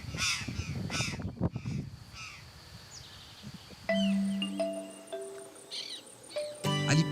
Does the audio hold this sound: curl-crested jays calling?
yes